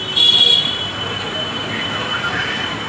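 A crowded suburban train stands at a station late at night, with a brief sharp wheel squeal at the start settling into a steady loud rumble of rail noise.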